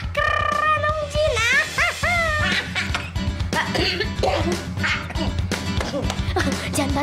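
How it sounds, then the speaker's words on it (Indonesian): A cartoon character coughs in an animated Indonesian legend about a genie living in a teapot, with sharp bursts set among music and comic vocal sounds. "Jangan batuk, jangan batuk."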